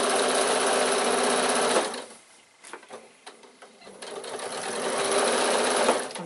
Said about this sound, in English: I'm just sewing on top of the stitches that we sewed to make the piping.